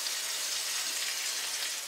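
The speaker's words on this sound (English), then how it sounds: "now what I'm going to do is put our salmon skin down into the frying pan." Salmon pieces laid skin down in hot oil in a frying pan give off a steady, even sizzle of fine crackling hiss, moderately quiet and continuous with no talking.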